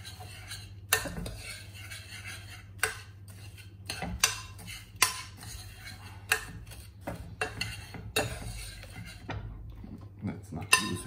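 A cheesecake biscuit base gets stirred in a bowl, giving a quiet run of irregular spoon clinks and scrapes against the bowl over a low background hum, with a voice speaking between the knocks.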